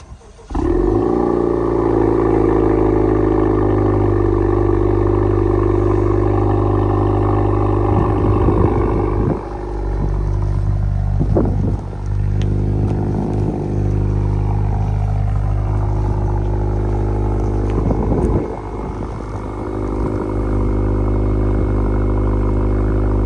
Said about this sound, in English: this Accord got a borla exhaust and also a PRO intake. So let's give it a cool start and see how it sounds